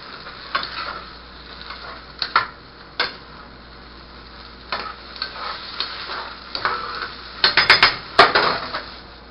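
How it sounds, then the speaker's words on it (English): Potatoes stirred in a pan for German potato salad, a faint background sizzle broken by scattered close spoon knocks and scrapes that cluster and grow louder toward the end. "Stir them all up in there."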